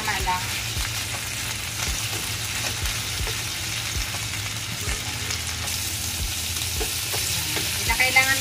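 Bacon frying in cooking oil, a steady close crackling sizzle with a low hum and small pops throughout, growing slightly busier toward the end.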